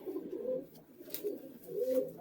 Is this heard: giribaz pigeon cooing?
yes